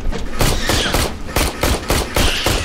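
Rapid, loud bursts of automatic gunfire from the video game Aliens: Colonial Marines, close and sustained, with short evenly spaced volleys hammering one after another.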